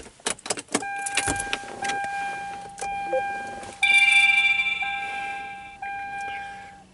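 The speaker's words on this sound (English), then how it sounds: "Excuse me while we get past the dings and dongs of the car itself." A car's warning chimes ring out right after the ignition is switched on, a run of clear electronic dings and sustained tones layered over one another, with clicks at the start and a quieter tone carrying through underneath.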